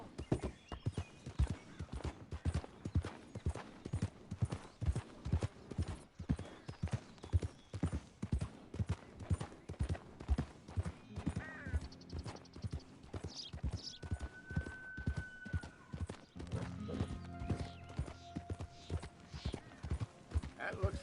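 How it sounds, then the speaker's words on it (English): Hooves of a horse in the video game Red Dead, a steady rhythmic clip-clop trotting close up for the whole stretch, with whinnies, brief tonal game sounds and talk cutting in partway through. "Looks like a pretty nice horse you got there."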